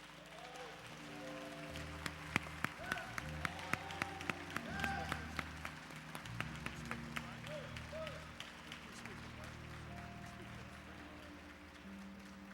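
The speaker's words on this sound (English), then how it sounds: "Please let us applaud and congratulate all of the hard work these students have done" An audience applauds students at an event honoring Don Cornelius, with scattered claps and a crowd murmur that rise and fall over several seconds and stay moderately loud with a few sharper individual claps.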